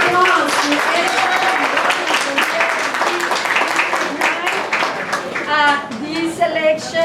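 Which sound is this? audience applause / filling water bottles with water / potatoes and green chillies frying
audience applause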